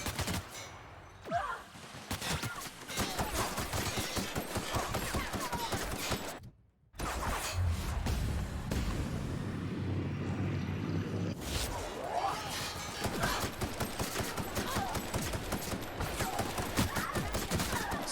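Rapid, sustained gunfire from the video game The Outer Worlds, dense bursts of shots filling most of the stretch with one brief silent gap near the middle, loud and continuous.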